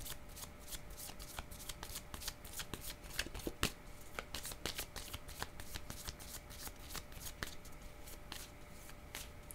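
Tarot cards being shuffled by hand for a reading, a steady run of crisp riffling flicks and soft slaps close up with a faint background tone and no talk.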